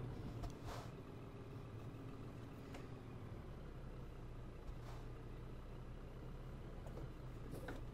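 A Scania P230 truck with a 230-horsepower engine and eight-speed gearbox, hauling a heavy 44-tonne trailer in Euro Truck Simulator 2, drones steadily at low speed, a continuous mid-low engine hum with faint mechanical clicks and no talk.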